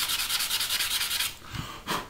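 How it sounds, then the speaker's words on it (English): Coarse sanding sponge rubbing against a plastic 1/48 Academy SU-27UB model kit, a quick run of rhythmic close scrubbing strokes followed by a couple of slower, separate rubs. "So if we use quite a coarse sanding sponge"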